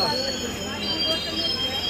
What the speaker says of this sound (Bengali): প্রান্তিক থেকে ট্রেন ছেড়ে দিয়েছে